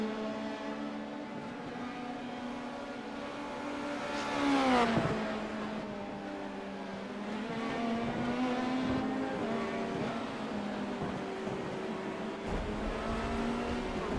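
A Formula Renault 2.0 race car drones around a track with its engine note sweeping up and down through gear changes and passes, steady and continuous, heard from a moderate distance.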